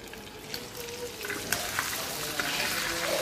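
Prawns fry in a pan with a continuous close crackling sizzle that swells slightly, punctuated by a few stirring knocks.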